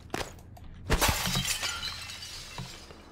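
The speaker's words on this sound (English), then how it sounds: "Smashing glass is a good way to get around." Glass smashes in the Prey game, a sharp close shatter followed by tinkling shards scattering over a few seconds, with a smaller crash near the end.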